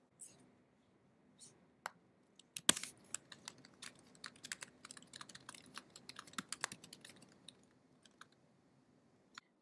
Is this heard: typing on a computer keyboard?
yes